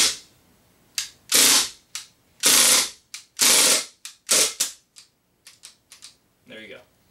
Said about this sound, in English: pull the bolt back, put the magazine in, and then fire to release all the gas